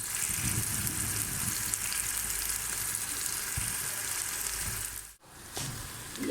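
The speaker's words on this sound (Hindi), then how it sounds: "छोटा छोटा करके कटिंग करके एक प्याज डालेंगे" Finely chopped onion frying in hot oil for a chana and mash dal curry, a dense continuous sizzle heard up close, with a brief dip near the end before the hiss resumes.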